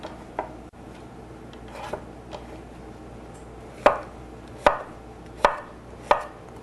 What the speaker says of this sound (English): we're going to cut our zucchini right in half